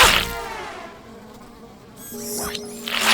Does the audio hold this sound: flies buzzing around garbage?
yes